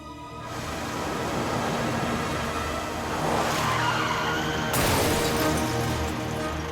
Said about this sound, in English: One of the guys heard tires screeching and that definite thud that we all know in the towing industry.